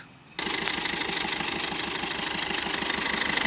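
A diesel engine of a 2019 Maruti Suzuki Swift Dzire VDI idles close by with a steady low rumble and rhythmic knocking, starting abruptly after a brief quiet moment and running on evenly.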